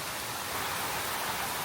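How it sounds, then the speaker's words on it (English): Hard rain pours outside in a dense, steady hiss of countless drops, continuous and fairly loud with no voices over it. "It is raining hard,"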